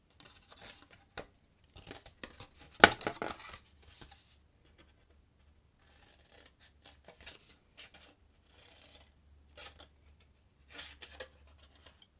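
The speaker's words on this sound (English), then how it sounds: "So cut straight up to the score line." Scissors cutting cardstock for a small notecard box, a few close, sparse snips and paper rustles separated by quiet gaps.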